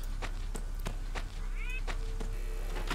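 A cat meows once in the horror game Sophie's Curse, a short rising cry among steady game ambience and periodic soft thumps, moderately close.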